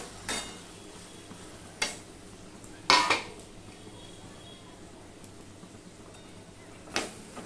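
A spoon scrapes and knocks against a pan while boiled taro leaves are stirred. A few sharp clinks stand out over quiet, steady background noise.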